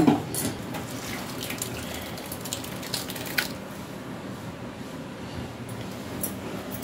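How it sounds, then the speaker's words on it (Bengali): Fresh chhana curdled with lemon and vinegar being rinsed under water, a steady running splash with wet squishing and sloshing, close and continuous without speech. "আমি সেহেতু এটা একটু জল দিয়ে ধুয়ে টক ভাবটা যাতে না থাকে"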